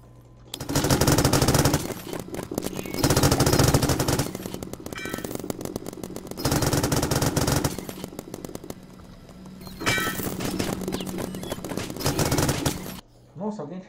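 Rapid bursts of automatic gunfire from a Roblox video game, loud and dense, come in several long volleys separated by brief lulls.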